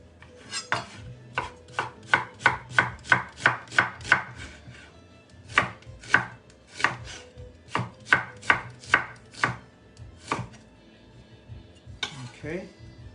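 A knife chops onions on a cutting board with quick, crisp, evenly spaced strikes in two bursts, close and clear, followed by a short clatter near the end.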